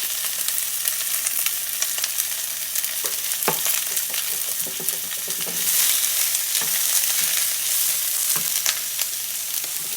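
Onion sautéing in a pot for chicken soup, a steady close sizzle and crackle running throughout with occasional stirring clinks, no voices.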